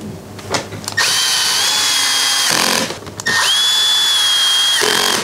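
A power drill drives long shoulderless T25 screws into a BMW R1250GS body panel, two loud sustained whirring bursts separated by a short pause, close by with no talk.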